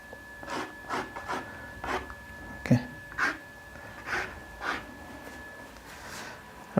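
A fingernail scratches details into a watercolor landscape painting on paper, making a series of short, dry rasping strokes in a loose rhythm, fairly quiet and close, with no talking.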